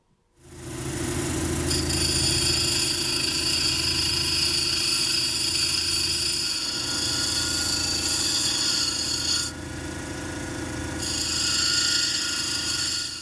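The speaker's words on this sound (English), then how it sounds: "this is going to work really fast on the wheels, which is good because it doesn't take too long, but I got to be careful not to grind too deeply" Lightning stone is ground on grinding wheels as a pendant is shaped, a loud continuous motor whine and grinding hum that holds steady with a brief drop in pitch toward the end.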